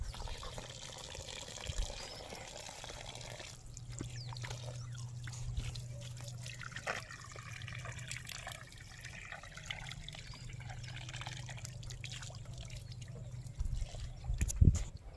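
Water gushes steadily from a village borewell outlet, a continuous faint splashing trickle with a low rumble underneath, carrying on without pause.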